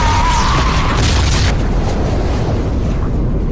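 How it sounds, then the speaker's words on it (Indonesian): A bomb blast in an Expendables action film erupts as a loud, broad roaring boom that sustains and slowly fades over a few seconds. "Stone pun muncul dan ia menjatuhkan sebuah bom yang membuat tim Expendable terpental ke"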